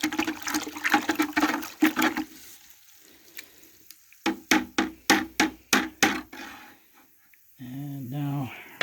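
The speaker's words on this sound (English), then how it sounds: "Then we need to stir this. I'm using a bamboo stick," A wet ash mixture is stirred with a bamboo stick, giving a series of close, rhythmic sloshing scrapes in two rounds with a pause between, followed by a short voiced sound at the end.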